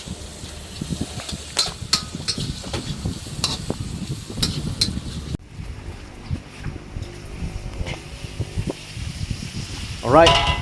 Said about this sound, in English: are letting the mock duck, cook in the wok